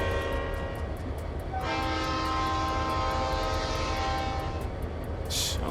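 A Conrail locomotive in the Trainz simulator rumbles steadily, then sounds a sustained multi-tone horn blast for about three seconds before it cuts off over the continuing engine drone; no one speaks.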